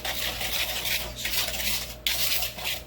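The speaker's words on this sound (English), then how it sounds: "You just mix the sugar up with the oil." Sugar and oil are mixed in a bowl for banana bread, a continuous gritty scraping and rubbing of a utensil against the bowl with brief clinks, close and steady with no voices.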